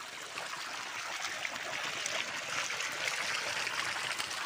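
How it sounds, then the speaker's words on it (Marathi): Irrigation water pours steadily from a pipe in a sugarcane field, making a soft continuous rushing trickle with a faint gurgle, heard alone at low level. "बघा ही पाणी चालू आहे. पाईप इथं."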